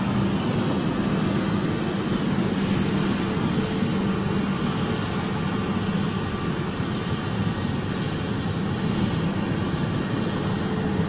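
A jet airliner departing Lisbon airport roars in a broad, steady rush of engine noise that holds constant and fills the scene with no voices over it.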